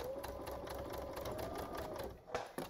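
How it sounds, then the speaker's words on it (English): A sewing machine stitches across ribbon for a heart garland in a quick, quiet run of rapid needle strokes, ending with a couple of sharper clicks. "I'm going to put my other piece of ribbon in, and I'm gonna just sew across it"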